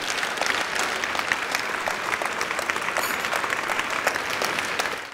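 Steady, dense applause from a large theatre audience after a Gogol story performance, continuous and even throughout with no voices standing out.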